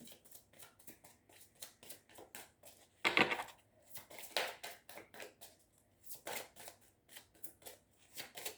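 Tarot cards shuffle and slide against each other up close, a quiet series of rhythmic papery riffles and flicks with a louder burst of cards snapping together partway through, no talking.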